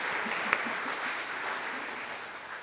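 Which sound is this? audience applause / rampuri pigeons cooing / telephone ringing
audience applause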